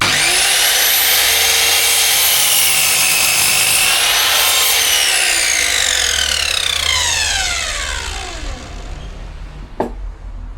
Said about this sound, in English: So I've got my trusty little mitre saw to do the hard work.